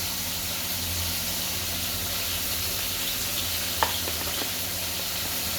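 Spices sizzling in a pan for hilsa with bottle gourd, a dense steady hiss of frying with a single brief utensil click midway, close up and with no speech.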